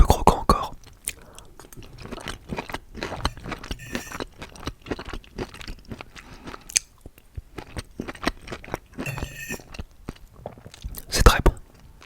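Close, wet chewing of steak with still-crunchy onions and mushrooms, with irregular bites, crunches and smacks over twelve seconds and a few soft breathy mouth sounds between them.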